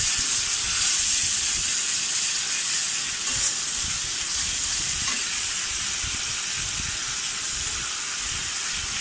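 Onion paste and tomato paste frying in a pan for a Bengali chicken curry, a steady close sizzle and hiss running throughout with faint stirring.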